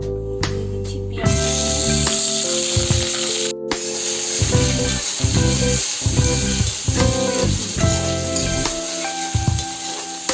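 Onions fry in hot oil with whole spices for rajma masala, giving a loud, steady sizzling hiss with intermittent stirring scrapes under a continuous music bed.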